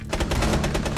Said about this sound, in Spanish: ¡Esta escopeta de Dios!